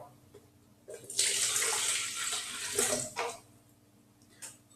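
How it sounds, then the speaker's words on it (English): Water pours steadily into a plastic bottle during a climate-in-a-bottle lab setup, a broad rushing splash lasting about two seconds that tapers off, then a brief trickle near the end. "All right, I'm going to pour in my water."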